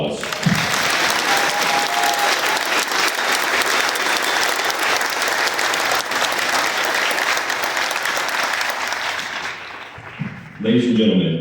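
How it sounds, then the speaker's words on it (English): A large audience at a military graduation ceremony at Fort Benning, Georgia claps steadily for several seconds for the soldiers, dense and loud, fading near the end before a voice begins talking. "please join us in giving these fine soldiers a round of applause"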